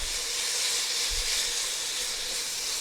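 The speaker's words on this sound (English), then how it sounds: "because I'm on a max sear, I want to get a little bit of a sear on the steak" Beef steak with garlic searing over high heat in a hot pan, a steady broad hiss with faint low crackle running continuously and fairly close.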